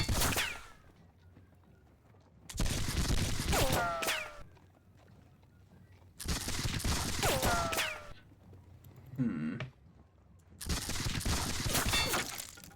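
Musket volleys from a Seven Years War battle game at Zorndorf come as four long roaring bursts of massed crackling fire separated by short gaps, loud and close, with no talk over them.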